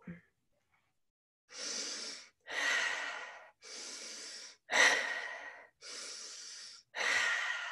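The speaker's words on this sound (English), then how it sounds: "You want this to be audible. You are breathing in peace, acceptance, beauty." Deep, audible breaths in and out during a full-body exercise class, six long airy breaths in a steady rhythm, close and fairly loud, with no talking between them.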